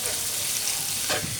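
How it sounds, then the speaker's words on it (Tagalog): Lady fish (bidbid) stirred into ricado paste in a hot pan, a steady bright sizzle with a soft scraping swirl of the spoon near the end, close and continuous with no voices. "Ikot na natin dito sa ricado."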